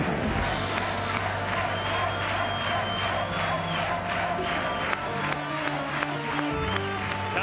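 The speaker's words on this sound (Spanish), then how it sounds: "un aplauso para Miguelito en la Resistencia" A television studio audience cheers and applauds a guest on a Spanish late-night show, a dense, steady crowd roar with clapping that carries on without a break and sits close and loud.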